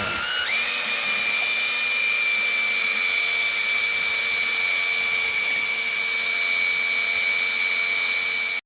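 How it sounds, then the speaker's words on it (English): A handheld power drill spins up and then runs at a steady high-pitched whine, loud and close, holding constant for several seconds with no talking. "take my drill, take this paper off of it, put the drill in here and let it do the work"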